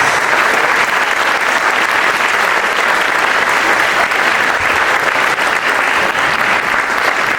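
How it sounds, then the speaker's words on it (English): An audience gives a warm, sustained round of applause for panel speakers at a music strategy event, loud and even throughout with no break. "Could you please give a big, appreciative round of applause for Lena, Darren, Henley, and Davidson."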